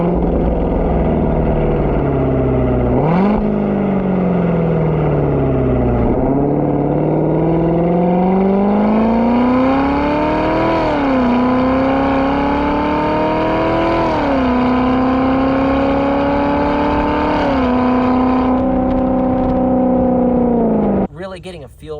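A Chevrolet Corvette C7 Z06 fitted with a Corsa Extreme exhaust drives and works through its gears, the loud V8 rising in pitch, dropping on shifts and blipping on downshifts, heard from close with a voice talking over it.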